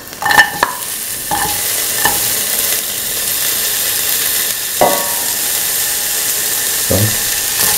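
Onion pieces frying in hot oil in a pan make a steady, loud sizzle. A few sharp clanks of a spatula against the pan break through it, and no one speaks.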